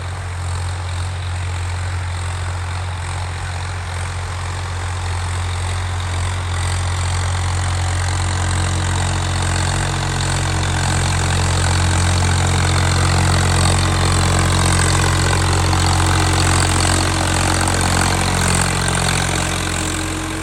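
A tractor engine idles steadily in a village near Adampur, Jalandhar, Punjab, with a deep, continuous rumble and faint knocking, no voices, holding the same level throughout.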